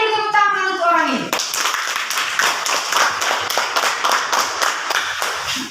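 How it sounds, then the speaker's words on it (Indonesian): Children in a fourth-grade classroom break into quick rhythmic clapping after a short stretch of speech, many hands beating together steadily at close range. "Berikan dulu tepuk tangan untuk orang ini"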